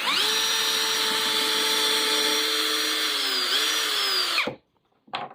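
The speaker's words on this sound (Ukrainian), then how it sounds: "Потім собі можна зняти і відразу вкрутити ось шуруп." Procraft PA18Pro brushless cordless screwdriver whines steadily at high speed while driving a screw into a wooden board, loud and close, then stops abruptly, followed by a brief short burst.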